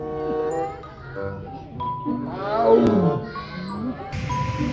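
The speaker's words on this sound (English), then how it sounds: "Wow, this is a tiger." Tiger roar from an animal toy, a loud electronic roar with a rising and falling growl and a few chime-like tones, played close up.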